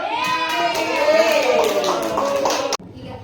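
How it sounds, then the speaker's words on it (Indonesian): A school class of children claps a quick rhythmic applause chant, their voices chanting along with the hand claps before it cuts off abruptly. "silakan kelompok 4 yuk kita kasih tepuk salut ya. Tepuk salut."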